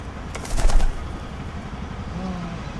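Released pigeon bursting into flight with a short, loud flurry of flapping wings up close, then faint outdoor background as it leaves.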